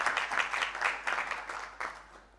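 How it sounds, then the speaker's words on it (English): An audience claps for the regulators at a talk, a short burst of applause that rises and falls in uneven waves before thinning out. "I request, clap for the regulators here"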